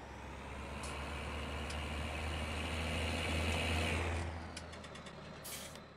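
A Case Maxxum 5150 tractor engine in Landwirtschafts-Simulator 19 rumbles steadily with a low throb, slightly rising then easing off, with faint clicks near the end.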